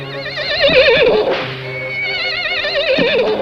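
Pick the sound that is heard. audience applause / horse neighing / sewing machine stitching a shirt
horse neighing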